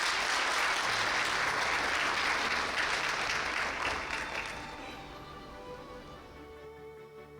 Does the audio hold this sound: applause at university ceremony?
yes